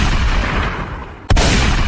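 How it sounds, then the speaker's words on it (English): A single sudden cartoon gunshot cracks out loud and sharp after a stretch of steady background noise, then the din carries on. "Watch where you're shooting, Sam!"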